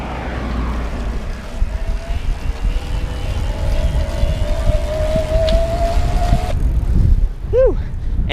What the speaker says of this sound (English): I'm purposely in the highest level of assist, pedaling fast because that's what makes the motor the most noticeable in terms of sound